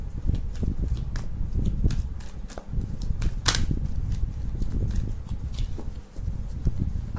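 Tarot cards are shuffled by hand up close in a rapid, continuous flutter of riffling and slapping card edges, with only a couple of short pauses.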